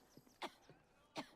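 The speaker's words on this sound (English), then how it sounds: "Why are you coughing?" A character coughs in the Assassin's Creed Syndicate video game, several short throaty bursts at fairly low level, with two stronger coughs standing out and no talk.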